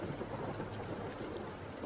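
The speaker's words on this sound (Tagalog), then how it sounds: "Nilusong namin ang malakas na ulan." Heavy rain and wind make a steady, dense roar of noise for the whole stretch, fairly quiet and even, with no voices.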